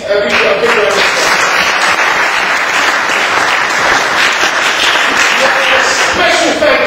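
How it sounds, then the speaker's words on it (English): An audience at an Iftar dinner in Waltham Forest Town Hall, London, breaks into sustained, loud applause, dense clapping filling the hall at an even level throughout. "Please give all these people a big round of applause."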